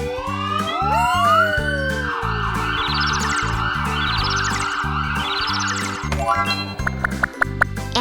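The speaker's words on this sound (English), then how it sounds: "Ambulance." An ambulance siren in a children's cartoon wails with rising, repeating sweeps, loud and continuous under bright background music, ending in a quick jingle.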